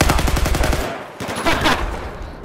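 Rapid machine-gun bursts from the Battlefield video game on hardcore mode, loud and close, a steady rattling stream that breaks off after about a second before scattered shots and explosive noise resume.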